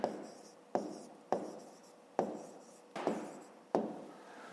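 Pen strokes on paper while numbers are written for a fifth-grade maths exercise, six distinct scratchy strokes at roughly even intervals, each a sharp onset fading quickly, close and fairly quiet with no talking.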